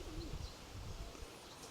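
Domestic pigeons, a grey scaly cock and a speckled hen, give a soft, brief coo early on, faint and low against quiet background hiss.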